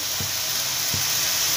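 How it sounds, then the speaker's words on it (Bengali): Spice masala for a jackfruit curry sizzles and fries steadily in a pan, a loud continuous hiss with two soft low thumps of stirring. "এইটা দিয়ে ভালোভাবে মশলাটা দিয়ে কষিয়ে যেতে হবে"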